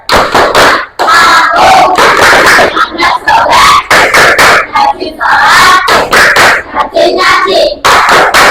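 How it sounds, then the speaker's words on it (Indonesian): Children in an Islamic school classroom chant the 'tepuk anak soleh' clapping song together, loud rhythmic group voices punctuated by sharp unison hand claps throughout. "kita semangat dulu dengan tepuk anak soleh"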